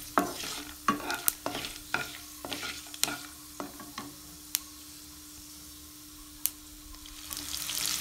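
Cinnamon, cloves and whole garam masala fry in a little oil while a spoon clicks and scrapes against the pan in a quick series of taps, over a soft sizzle that swells again toward the end.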